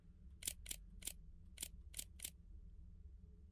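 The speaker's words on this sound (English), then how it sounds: "That clicking noise is you trying to take pictures." A camera shutter in the video game Amenti clicks six times in quick crisp snaps, two pairs and a pair, over a low steady background hum, with no talk.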